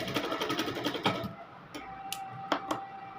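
Sewing machine stitching a folded sleeve cuff: a fast steady run of stitching that stops abruptly, followed by a few sharp isolated clicks and a faint hum.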